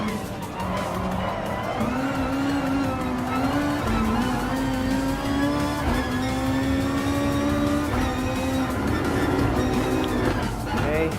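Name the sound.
2013 Volkswagen Beetle GT race car in Gran Turismo Sport video game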